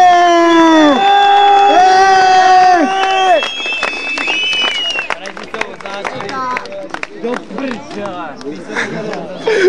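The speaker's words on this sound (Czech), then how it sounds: "Ještě jednou velký potlesk pro Písu!" A crowd at a 2008 Kralupy skate jam cheers, whoops and claps for a skater, loud drawn-out shouts at first giving way to scattered clapping and chatter, with voices talking throughout.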